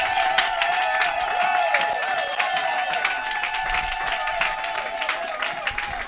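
A church congregation applauds and cheers together, producing a dense, steady wash of clapping and voices that holds at an even loudness throughout.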